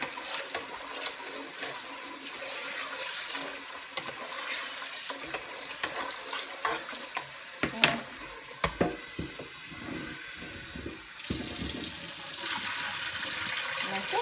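Running water splashing over rice as it is rinsed in warm water at a kitchen sink, a steady stream with scattered clicks and knocks, fairly close and continuous.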